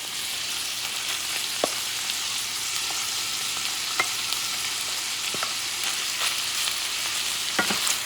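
Cooked rice and chorizo are stirred in a frying pan under a steady sizzle, with a few spatula scrapes and taps on the pan, close by and without talk.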